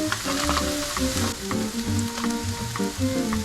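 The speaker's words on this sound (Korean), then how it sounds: "원래 버터들을 잘 안 넣는데 저는 풍미를 위해서 버터를 조금 넣게" Butter sizzles in a pan over high heat while cooking tomato meatball spaghetti, a continuous frying crackle with rhythmic clinks of stirring.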